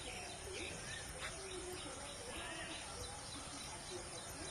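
A faint chorus of many birds chirps and calls continuously at 6 a.m. dawn in Kuwait over steady hiss, with insect-like buzzing and no clear talk.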